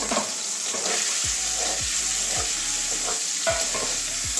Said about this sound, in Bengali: হালকা পনিরটাও ভেজে নেব